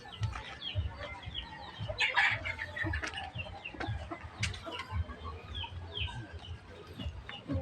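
Several brooding hens cluck steadily in a backyard coop while sitting on eggs, with occasional louder squawks and a rooster-like call over a constant low rumble of background noise.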